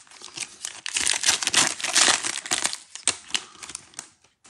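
2021 Select football trading cards slid into plastic sleeves and top loaders, close crinkly rustling and crisp plastic scraping in uneven bursts, with no voices.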